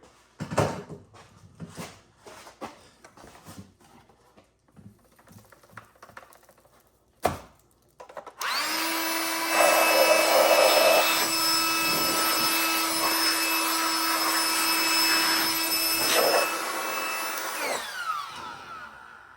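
After a few knocks and handling clatters on a workbench, a Dyson vacuum cleaner is blown out with air: a loud, steady, hissing rush with a constant hum that lasts about ten seconds before tailing off.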